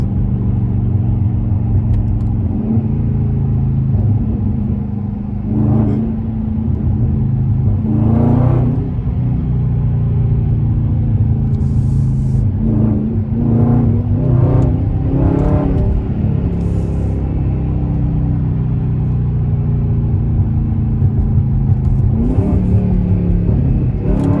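A Dodge Scat Pack engine making hard pulls while running alongside a Daytona, with a deep rumbling exhaust that rises through several revving surges and gear changes, loud and close.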